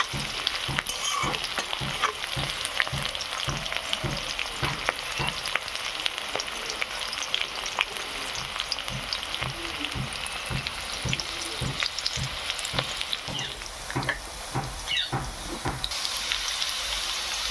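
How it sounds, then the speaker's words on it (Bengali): Onion fries in a pan with a steady, close sizzle, while a spatula scrapes and stirs in regular rhythmic strokes throughout. "পেঁয়াজটা ভাজা হয়ে গেছে"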